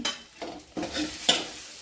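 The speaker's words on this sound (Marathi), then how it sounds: "हळद टाकल्यानंतर पण चांगली मिक्स करून घ्यायची भाजी फोडणीमध्ये" A spoon stirs mixed vegetables with turmeric in a hot tempering for Bhogi mixed bhaji, after tomatoes have been sautéed, with four scraping strokes over a soft sizzle, close and fairly quiet.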